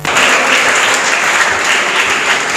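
Loud, steady clapping fills a hall as an audience at an English academy confidence-building program applauds a prize winner, a close, dense roar of many hands that never lets up.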